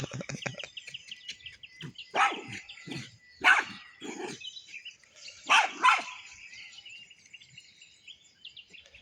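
A dog barks outdoors in a few loud separate bursts against a quiet rural background with faint insects and birds.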